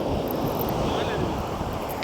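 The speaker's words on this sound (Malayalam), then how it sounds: "ഭയങ്കര ഫോഴ്സിൽ വരും കേട്ടോ ഇപ്പോൾ തിരമാലകൾ." Sea waves surging forcefully onto the shore at Poovar, a continuous loud roar of surf mixed with heavy wind buffeting the microphone.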